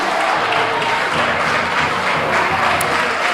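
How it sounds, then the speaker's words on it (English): A dense, steady wash of applause from a large crowd at a university business competition final, many hands clapping together without pause. "Please, they deserve a round of applause"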